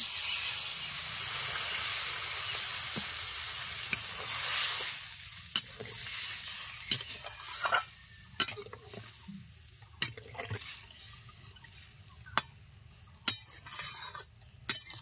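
Water poured into a hot pan sets off a strong, steady sizzle and hiss that fades over several seconds, then gives way to scattered sharp clinks of a utensil against the pan.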